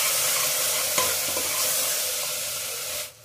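A spoon stirs ginger, garlic and green chilli paste with coriander and turmeric powder in a frying pan, scraping over a steady close sizzle for about three seconds.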